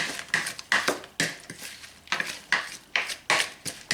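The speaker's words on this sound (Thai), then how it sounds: "เดี๋ยวป้าตักน้ำลวกกุ้งนิดนึงนะคะ" A metal spoon clinks repeatedly against a pot and bowl while shrimp-blanching water is ladled out, roughly a dozen sharp close taps at an uneven rhythm, with no talking.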